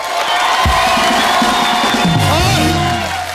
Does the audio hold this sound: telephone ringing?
no